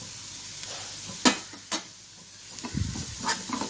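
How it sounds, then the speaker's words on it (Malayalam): Masala powders being stirred into sautéed ingredients in a pan for a chickpea dish, a low sizzle carrying a few distinct scrapes and clicks of the spoon and a rougher stirring stretch near the end. "ഇത് നന്നായിട്ടൊന്ന് ഇളക്കിയെടുക്കാവേ."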